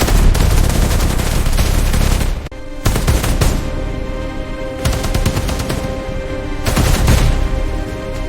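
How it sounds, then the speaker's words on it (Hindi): Loud, sustained gunfire in a dramatized police and army confrontation, dense rapid bursts like automatic weapons filling the scene with brief pauses between volleys. "वह खतरे का सामना करने के लिए फायरिंग शुरू कर देती है।"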